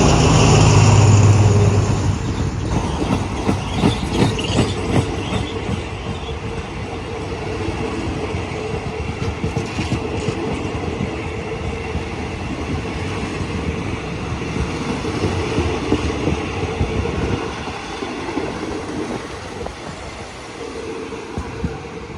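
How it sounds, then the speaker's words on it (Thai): Train 254 on the Lang Suan–Thonburi service, hauled by locomotive 4305, pulling into Ban Pong railway station: a loud, steady rumble of rolling wagons with faint wheel clatter, slowly easing off toward the end. "กำลังเข้าจอดสถานีบ้านโป่ง"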